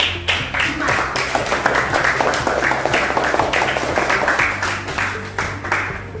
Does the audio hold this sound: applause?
yes